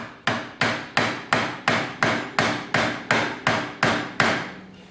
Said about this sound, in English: This chisel here, it's a wood chisel, y'all.